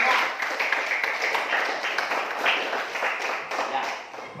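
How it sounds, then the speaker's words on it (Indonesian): Students clap their hands together in a classroom, producing a fairly loud, dense round of applause with some voices mixed in. "Kalau gitu beri tepuk tangan untuk kita semua."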